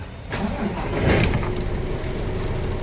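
A car engine cranks and catches, then settles into a steady idle, close by in a workshop where airbag suspension is being fitted.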